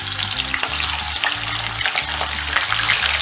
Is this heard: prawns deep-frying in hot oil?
yes